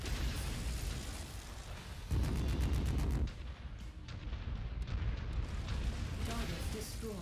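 A battle mech blows apart in a mech combat video game amid heavy artillery-like booms and rattling weapon fire, with a loud, dense blast in the middle and continued explosive bursts afterward.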